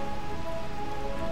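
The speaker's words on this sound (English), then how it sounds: "how is it always raining?" Steady rain falls over ruins in Final Fantasy IX, a dense even hiss with a low rumble beneath and faint tonal music running through, continuous for the whole stretch.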